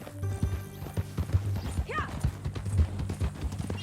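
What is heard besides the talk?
horse hooves clip-clop, from video game Red Dead Redemption 2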